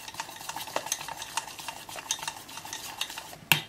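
A spoon stirs a yogurt and gram flour mixture in a pot, giving soft, quick, rhythmic scrapes and light clinks at close range, with one sharper knock near the end.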